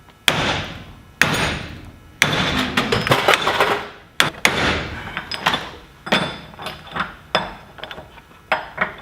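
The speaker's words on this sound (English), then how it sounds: "I'm going to pound on the yoke to force the caps out of the yoke" Sharp metal-on-metal hammer blows on a driveshaft yoke held in a vise to drive out universal joint caps, about a dozen irregular strikes with ringing decays and clinks, loud and close.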